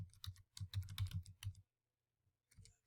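Keys clatter in quick bursts on a computer keyboard while code is entered, a dense run of clicks followed by a pause and a brief final flurry, close and clear with no talking.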